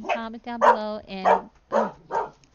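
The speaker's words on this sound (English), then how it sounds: "I apologize for my dog barking." A pet dog barks in short, sharp bursts, several yips breaking through while a person keeps talking over them.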